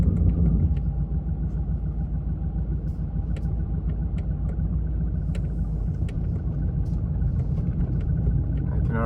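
A Cadillac DeVille with converted rear shocks driving on the road, heard from inside as a steady low rumble of tires and engine, with faint clicks and rattles scattered over it.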